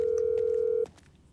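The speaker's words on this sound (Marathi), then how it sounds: "लेस्टरला फोन लावतो भाई आता मी" A phone dialing tone in the video game GTA V, a steady electronic beep held for under a second, then cutting off to quiet background.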